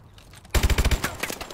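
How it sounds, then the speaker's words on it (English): Call of Duty Advanced Warfare hardcore match: after a quiet moment, a quick burst of about eight rapid, punchy automatic shots rings out, followed by ragged trailing fire and echoes. "Oh my god, I shot at him."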